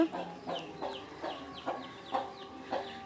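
Roosters are being hand-fed balls of homemade medicine and cluck repeatedly in a steady rhythm of short calls, close by and moderately loud, with no clear speech.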